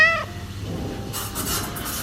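A cat gives a single short, clear meow at the very start, then only faint background hiss and ambient noise follow.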